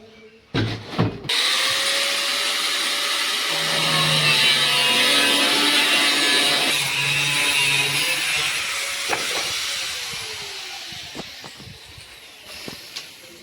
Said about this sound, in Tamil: நம்ம நெல்லேருந்து உள்ள தூசியெல்லாம் போகிறதுக்காக இந்த பேக் சைடு வந்து கட் பண்ணி இப்போ எடுத்துக்கிறோம்